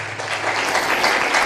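A church congregation claps together during a sermon, producing dense, continuous applause that stays loud and steady throughout.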